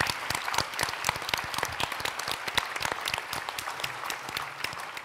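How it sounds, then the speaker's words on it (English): A conference audience at a local journalism media forum applauds steadily, a dense, even patter of many hands clapping throughout with no talking over it. "I just want everybody to give them a round of applause."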